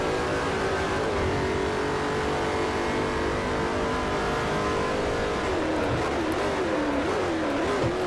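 A Koenigsegg supercar engine is driven hard in Forza Motorsport 4, with a loud, sustained high-revving roar and shifting pitch as it accelerates and downshifts, heard alone without talk.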